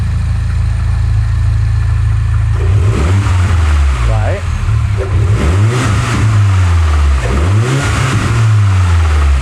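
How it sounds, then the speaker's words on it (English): A modified Mini car engine idles roughly, then revs up and down in several loud bursts, its exhaust booming and crackling close by; a voice speaks briefly. "The exhaust just got louder."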